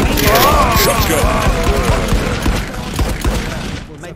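Rapid, loud gunfire bursts from a shotgun in the cartoonish shooter game Poostall Royale, sharp cracks repeating densely throughout with voices shouting over the shots.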